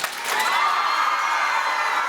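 Crowd cheering at a school gala, a broad steady roar of shouts and whoops rising quickly and holding loud throughout, with little clapping evident.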